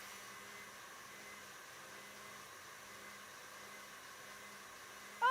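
An electric mixer whips meringue for a frozen maple walnut torte, a steady, faint whirring hum that runs evenly throughout, ending in a sudden louder burst.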